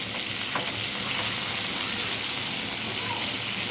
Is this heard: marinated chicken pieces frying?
yes